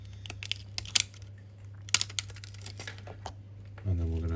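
Crinkly film peeled off the back cover of a Samsung Galaxy S25 Ultra, small close crackles and ticks, then a low steady hum rises at the end.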